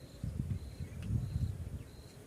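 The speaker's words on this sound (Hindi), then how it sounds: "ये देखिए जैसे कहीं मधुमक्खियों का छत्ता लगा हुआ ना, उसी तरीके से बहुत भयंकर तरीके से पूरे पेड़ में लगी हुई है।" Bees swarm densely across a flowering tree, giving a close, low, continuous buzzing drone that swells and fades with no voices.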